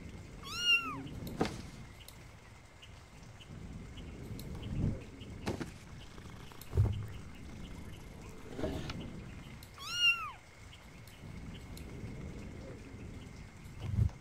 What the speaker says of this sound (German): Was miaust du denn?